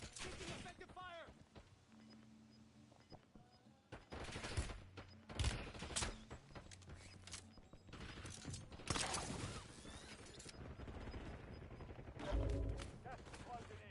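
Video game gunfire cracks in scattered loud bursts and volleys under radio-style voice callouts, with quieter gaps between the heavier exchanges.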